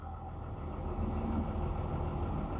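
A truck engine, a Baby Max, runs at a steady idle for the whole stretch, a dense low rumble that stays even and fairly close, with no talking over it.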